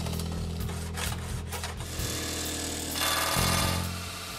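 A power tool cuts and trims a salvaged metal suspension bar in a garage, giving a loud, continuous grinding whine that shifts in pitch as the cut moves on, with no talk.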